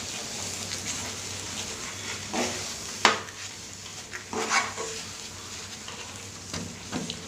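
A spoon stirring avalakki sweet in a pan after cardamom powder goes in, giving soft scraping with a few sharper metallic clinks against the pan over a low, steady background.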